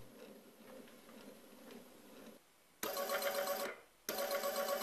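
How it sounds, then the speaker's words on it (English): Geared motor salvaged from an old printer driving a threaded rod at 5V: a faint whirring hum at first, then louder bursts of buzzing, grinding motor noise with a short pause between them. "This motor from an old printer is more powerful. Here it's driven with 5V."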